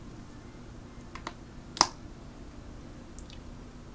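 Several sparse keystrokes tap on a computer keyboard in a quiet room, faint and irregular, with one sharper click standing out among the soft taps.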